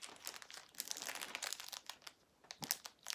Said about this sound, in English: obviously, it's out of this plastic bag